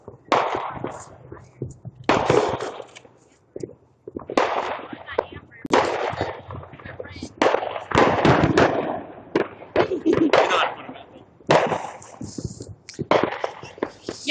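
Fourth of July fireworks and firecrackers go off in rapid, repeated bursts of crackling bangs close by, with voices talking among the explosions.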